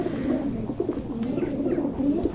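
Racing pigeons of a Dirrell Sablon Dendroma strain coo close by, a low, continuous throaty burble with soft rising and falling pulses that runs throughout.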